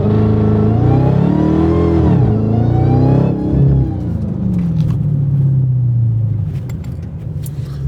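A stock Dodge Charger Hellcat engine revs hard at full throttle, a loud, close, rising supercharged roar that holds, dips, then climbs again before settling into a lower drone.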